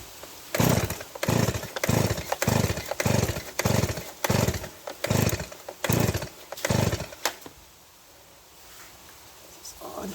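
A Stihl MS170 chainsaw revs in about ten repeated throttle bursts, loud and close, before dropping to a quieter idle-like lull at the end.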